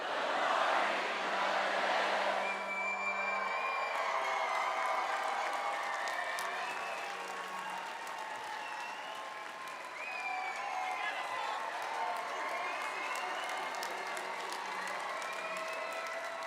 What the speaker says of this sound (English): we're going to say, "Good morning, judges," with a nice big cheer to wake them up